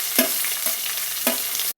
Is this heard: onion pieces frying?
yes